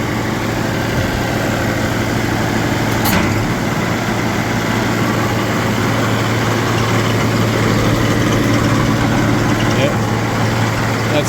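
A Timberking sawmill engine runs with its drive clutch engaged and no blade fitted, a loud steady idling drone with one sharp click partway through.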